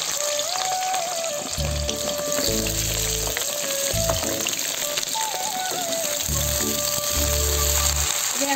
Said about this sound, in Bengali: খিচুড়িতে দেওয়ার জন্য সবজিটা আমি ভাজে নেবো ভালো করে।